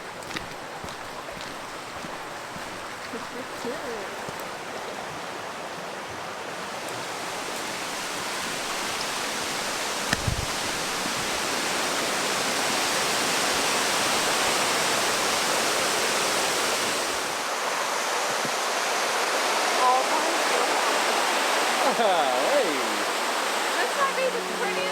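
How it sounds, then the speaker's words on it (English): Steady rushing roar of a waterfall in the Catlins, New Zealand, swelling louder midway and holding as a broad continuous wash of water noise. "This might be the prettiest waterfall I've ever seen."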